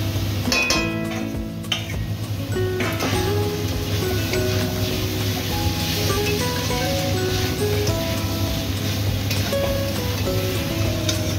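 Potatoes and spiced gravy fry together in a pan for aloo googli chochori, a steady crackling sizzle overlaid with frequent metallic clinks and scrapes of a utensil against the pan, with no talking.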